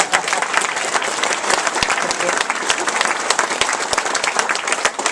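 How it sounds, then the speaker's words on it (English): Loud, dense audience applause at a dedication event honoring a woman and volunteers, a continuous wash of many hands clapping close by, holding steady throughout with a few sharper claps standing out. "Please give her another round of applause."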